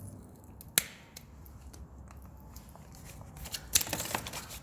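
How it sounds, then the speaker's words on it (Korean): Taiwanese-made pruning shears cut through a branch about 17–18 mm thick: one sharp close snip early on, then a further cluster of crisp clicks and crunching snaps as the blade chews through, with no talk. "이런 가위를 제가 잘라보면 일단 제가 대만산으로 한번 잘라볼게요"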